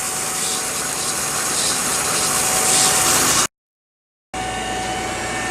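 A 2x72 knife-making belt grinder driven by a VFD-controlled motor runs with a steady, loud whir and abrasive rub, cutting out briefly to silence before resuming at the same even pitch.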